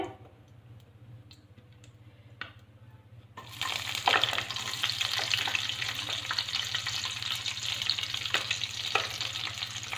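Chopped onions sizzle steadily in a hot pan, a loud, dense frying hiss that starts abruptly a few seconds in after a quiet stretch and continues with scattered crackles and pops.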